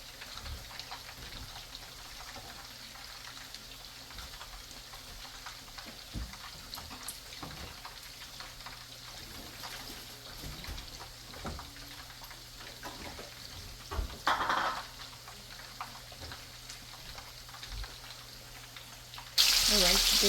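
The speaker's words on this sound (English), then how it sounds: "Alright, just go ahead and fry the onions." Onions frying in hot oil for Nigerian jollof rice, a steady soft crackle and hiss running throughout with occasional louder pops, plus a brief clatter near the end.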